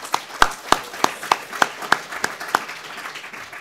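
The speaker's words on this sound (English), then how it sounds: "So another round of applause for Lauren." Applause for a speaker at a scientific session on parasites, pathogens and wildlife disease, a handful of distinct, fairly regular claps standing above a thin spread of lighter clapping that tapers off.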